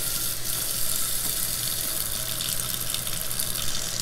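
Water poured from a tap or cup into moringa powder for a homemade face mask, a steady close trickling splash running continuously with no voices.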